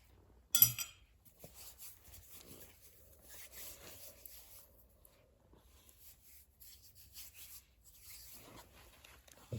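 A melted wax mixture for homemade fire starters is stirred in a container, giving faint, intermittent scraping and rubbing strokes, close up and quiet, with no talking.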